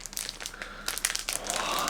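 A thin plastic baggie wrapped around an omnibus book crinkles up close in a rapid burst of crisp rustles, with no voices.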